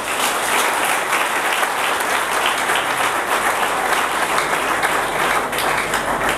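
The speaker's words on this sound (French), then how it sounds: "on acclame très très fort pour lui." Sustained loud applause from a seated audience at a public address, steady and dense for several seconds, greeting a speaker being introduced, with no talking over it.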